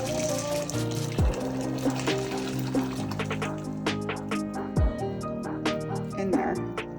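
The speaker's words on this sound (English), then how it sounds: "we're gonna pour the really hot water" Really hot water poured over beans in a pot for Mexican beans, a continuous gurgling pour with splashing and rising fill tones, close up, with a person talking over it.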